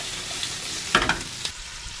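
Onion and pepper fry in a pan for chicken liver, a soft sizzling hiss with a few brief clattering stirs near the middle, close and without talk.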